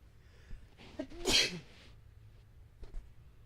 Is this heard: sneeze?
yes